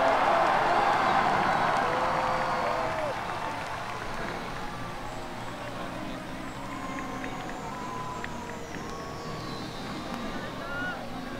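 A large stadium crowd roars and cheers as Doosan Bears players lift the 2015 KBO Korean Series championship trophy, loud at first and easing to a steady, sustained crowd din with scattered shouts throughout.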